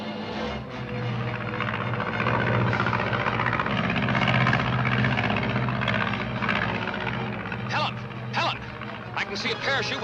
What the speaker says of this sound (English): Then the ship's just about over you.